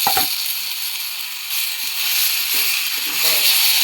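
Taro leaves are added to spiced masala frying in a pan, giving a bright, steady sizzle and hiss that carries on throughout, with faint stirring underneath.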